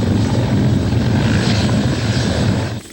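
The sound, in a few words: Griffin military helicopters preparing for liftoff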